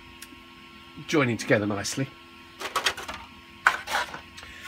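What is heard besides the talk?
3D printer printing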